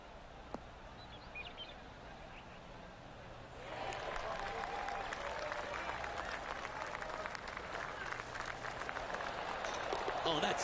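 A golf gallery in the video game PGA 2K23 breaks into steady applause that swells and holds for several seconds at the 18th hole, moderately loud from a distance.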